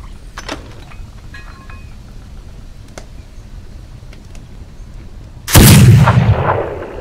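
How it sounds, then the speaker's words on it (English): A cannon fires once in the video game Heat, a sudden loud blast followed by a rolling, decaying rumble after several seconds of quiet ambient noise. "I wonder if we should reposition this cannon."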